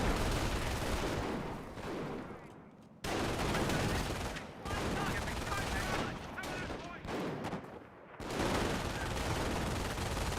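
Sustained MG4 machine gun bursts rattle across a Company of Heroes battlefield amid other gunfire, dense and continuous with brief gaps, under a commentator's voice.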